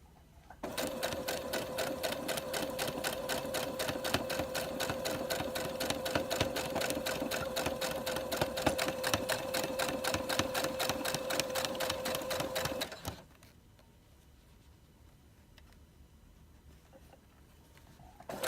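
A sewing machine stitches quilt blocks together in one steady, rapid run of close, even needle clatter for about twelve seconds, then stops abruptly into quiet room tone.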